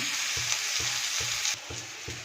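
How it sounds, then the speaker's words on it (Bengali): Onions fry in a hot pan with a loud continuous sizzle, punctuated by regular soft thumps of a spatula stirring about twice a second. "পেঁয়াজগুলোকে ভেজে নিই"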